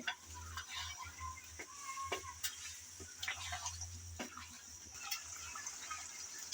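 Fish fat frying in a pan while being stirred continuously, a steady soft sizzle with scattered scraping and clicking stir strokes, fairly quiet and close, no voices.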